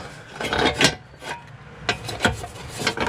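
Hands fitting and tucking a cover into place in a Subaru engine bay give close, scraping rubs and plastic rasps in several bursts, with no talking.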